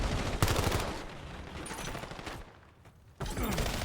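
Gunfire in a Call of Duty esports match, with rapid bursts of automatic shots and loud cracks over a dense, noisy game mix, dipping briefly before a sharp renewed burst.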